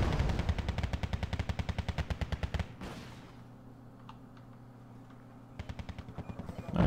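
Rapid automatic gunfire bursts in a wargame video game, crisp rhythmic shots in two volleys separated by a quieter lull with faint distant pops.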